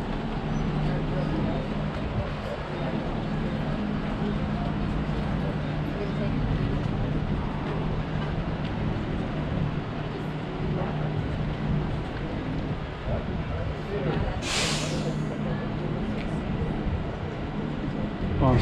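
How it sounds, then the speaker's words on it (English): A bus idles near a visitor center at Garden of the Gods, Colorado, giving a constant low engine rumble with a droning hum beneath outdoor ambience and a person talking. "there's a bus right over there that you can hear with this engine running"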